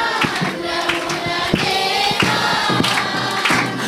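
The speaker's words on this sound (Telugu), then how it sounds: "చప్పట్లు." Congregation clapping along during a Telugu church song at Mount Olive Holy Church, rhythmic hand claps blended with singing and music in a reverberant hall.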